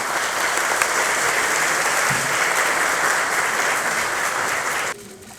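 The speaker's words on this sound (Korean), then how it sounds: "열심히 하라는 의미로 큰 박수 부탁드리겠습니다." Big, dense applause from Democratic Party lawmakers at a parliamentary workshop, a steady roar of clapping that cuts off abruptly near the end.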